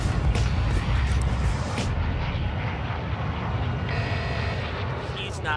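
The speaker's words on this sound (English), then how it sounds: "the plane is that loud" A loud airplane in Call of Duty Warzone, a constant heavy engine roar with some sharp bangs, filling the whole stretch.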